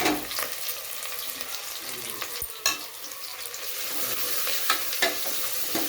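Ground masala paste frying in hot oil for a Telugu mutton-piece curry, a steady close sizzle with scattered stirring scrapes and a few sharp clicks against the pan.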